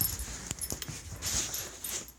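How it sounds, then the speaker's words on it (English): A dog whimpers close by in a garage while someone works on the interior trim of an NC Miata, short soft whines mixed with faint clicks and rustling. "My dog is trying to get under."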